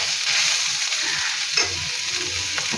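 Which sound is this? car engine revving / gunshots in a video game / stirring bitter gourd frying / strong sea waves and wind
stirring bitter gourd frying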